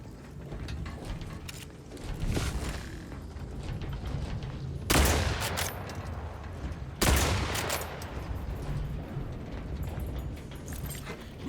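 Gunfire shooting explosives in The Outer Worlds 2, a rattle of sci-fi shots followed by two loud bursting explosions roughly two seconds apart, with mechanical whirring between them.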